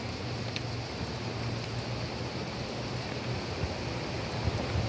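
Water runs downhill from a mountain in a steady broadband rush, a continuous close wash of flowing water with no talk over it.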